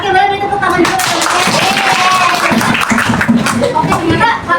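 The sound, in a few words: class of pupils giving applause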